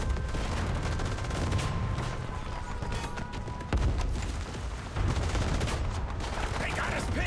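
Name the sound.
gunfire in the video game Warpath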